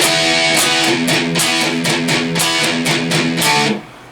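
A slow, heavily distorted electric guitar riff, with rhythmic chugging power chords and muted strums, played alone and fairly loud, ending abruptly.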